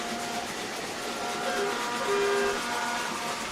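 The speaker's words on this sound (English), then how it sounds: "We got train whistles and jugs being shook all around." Shrill train whistles blown by a dense, roaring crowd at a high school football playoff game sound steadily, several overlapping tones sliding and sustaining, loud and continuous throughout.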